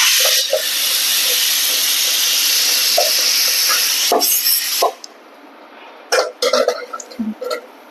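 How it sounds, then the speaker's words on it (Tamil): Onions sauté in a pan for a chickpea curry, hissing loudly and steadily for several seconds before the sizzle drops away, leaving quieter spatters and brief clattering bursts. "இப்போ நல்லா வெங்காயம் வதங்கிடுச்சு பாருங்க"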